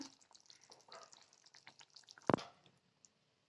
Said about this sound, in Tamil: கத்திரிக்காய் வேகிற அளவுக்கு நல்லா கொதிக்க வச்சுக்கோங்க.